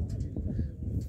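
An Orlov tumbler pigeon coos at a bird market, a few soft low throaty notes close by, mixed with the busy murmur of the market around it.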